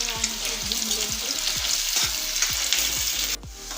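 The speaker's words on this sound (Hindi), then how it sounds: "और प्याज को थोड़ा सा ब्राउन कलर आने तक भून लेंगे।" Chopped onions fry in a pan while being browned for a market-style egg chutney, with a steady close sizzle and repeated scraping strokes of a spatula stirring at an even rhythm.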